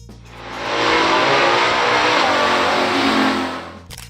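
A 1966 Chevrolet Chevelle L78 muscle car engine revs loud and close, swelling into a sustained roar for several seconds before dropping away, with no voices over it.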